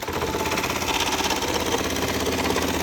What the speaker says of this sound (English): And then I can start sewing with the left pedal.